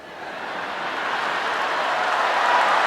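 Rally crowd cheering and applauding at a Trump rally, a steady broad roar that builds gradually in loudness and stays sustained throughout.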